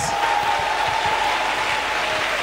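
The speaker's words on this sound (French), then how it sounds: "Acclamons pour Jésus-Christ." Church congregation applauding together, a steady wash of clapping held at an even level throughout, with faint murmuring voices underneath.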